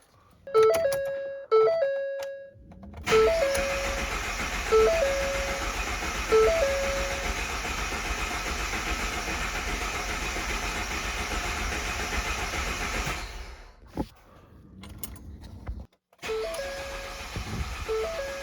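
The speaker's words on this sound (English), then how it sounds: "we're going to crank the motor until our oil pressure here comes up." A rebuilt 2014 Ford F-150 EcoBoost engine cranks over with the fuel pump fuse pulled, a loud steady whirring starter drone lasting about ten seconds without catching, bracketed by brief chimes and clicks before and after.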